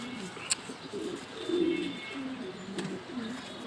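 A racing pigeon coos softly in low, throaty murmurs, with a faint wing flutter or click nearby and no talk.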